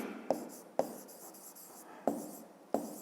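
Hand-writing a math expression with pen or chalk in a quiet room: soft continuous scratching strokes punctuated by four sharp taps at irregular intervals, close and alone with no talking.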